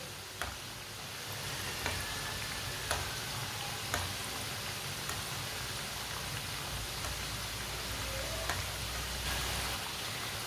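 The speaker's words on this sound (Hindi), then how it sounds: "कम आंच पे इसे फ्राई करना, नहीं तो जल जाएंगे, अंदर से कच्चे रह जाएंगे।" Namak pare, small fried dough snacks made from flour, frying in oil on a low flame, giving a steady, even sizzle with a few faint clicks and no talk over the whole stretch.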